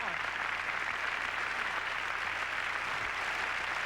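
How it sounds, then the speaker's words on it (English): An audience claps for a man called up onstage as a volunteer during a magic show, the applause fairly quiet and even under a low hum, lasting a few seconds. "Give George a nice round of applause."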